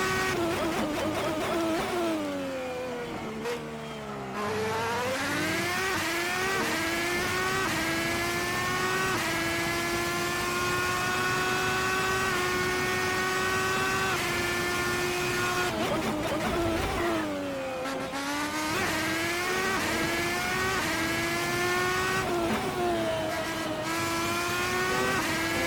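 A Red Bull X2010 race car on a track, its high-pitched engine screaming loud and close, rising through gears with sharp downshifts and brief lifts, holding steady wailing notes between corners, with no voices.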